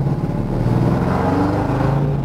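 A 1966 Ford pickup with a 428 engine and a top-loader four-speed rumbles along on the road, its loud, steady low engine drone filling the cabin without a break.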